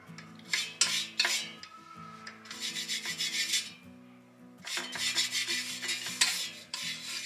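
Oil being rubbed onto a frying pan before frying, a scraping, rubbing sound in repeated close bursts with short pauses, over a steady low tonal hum.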